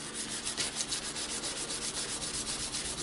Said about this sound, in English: I'm not just sanding that one spot, I'm sanding the whole knife